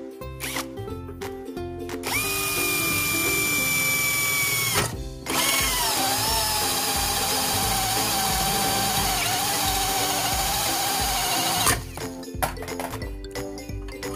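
A titanium-coated hole saw bit bores through metal, a loud, sustained whine with a high, ringing squeal, running in two long passes separated by a short pause.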